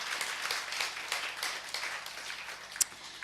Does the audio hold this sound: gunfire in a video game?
no